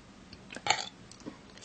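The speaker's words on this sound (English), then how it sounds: "I have to burp." A person lets out a short, quiet burp, a single brief croak close to the mic with faint mouth noises around it.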